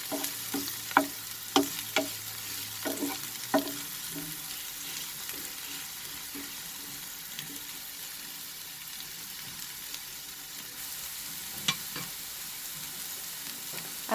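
Vegetables frying in a pan for veg fried rice, a steady soft sizzle running throughout with a few sharp clinks and stirring knocks near the start and one more later, close and fairly quiet, no talking.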